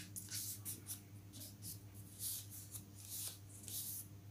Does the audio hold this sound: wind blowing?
no